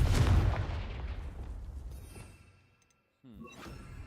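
A Confringo fire spell blast in Hogwarts Legacy, a loud booming explosion that decays over about two seconds, followed after a brief silence by softer game effects and a faint chime.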